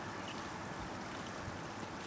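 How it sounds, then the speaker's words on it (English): Water draining from a self-draining jar fountain, a steady, even trickling and rushing wash that stays constant and fairly faint throughout, with no voices. "the jar is self-draining, so it will drain entirely down"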